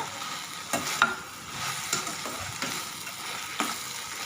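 Tomatoes sizzling as they sauté in a pan over a medium flame for tomato sambar, with a steady close frying hiss broken by several sharp spoon scrapes and taps against the pan.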